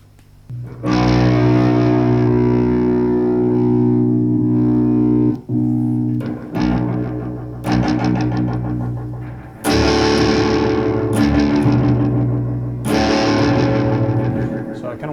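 Electric guitar through delay and distortion effects, played as sustained, loud droning chords with repeated strikes and brief gaps, swelling with echo trails; no voices over it.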